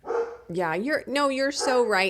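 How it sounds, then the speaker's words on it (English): A pet dog barks and yips repeatedly at home, its sharp, close barks overlapping a person speaking casually in conversation. "sorry if you can hear my dog barking"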